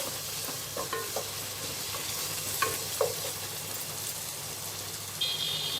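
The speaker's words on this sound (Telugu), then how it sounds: "ఈ అల్లం వెల్లుల్లి పేస్ట్ని పచ్చివాసన పోయేంత వరకు ఫ్రై చేసుకుందాము" Ginger garlic paste fries in a pan with a steady, soft sizzle and a few faint stirring clinks, for a spicy egg biryani.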